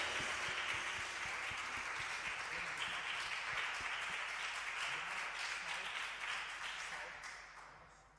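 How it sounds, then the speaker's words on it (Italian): A congregation applauds during a church service held by a teens group in Verona, steady and sustained clapping from many hands that fills the room, then slowly fades toward the end. "Questo applauso era per i teens o era per Dio?"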